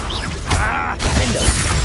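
A Confringo blasting spell strikes its target in a Harry Potter video game, a brief, loud, close crackling burst with a shattering, whooshing edge over busy combat noise.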